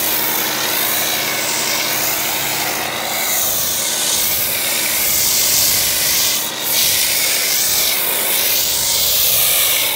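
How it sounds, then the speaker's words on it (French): Iron-decontaminating pre-wash shampoo is sprayed onto a white Mercedes. It makes a continuous loud, broadband hiss and rush for ten seconds, with slight surges and one brief dip, and no talking. "à présent on va passer le shampoing de pré-lavage décontaminant ferreux"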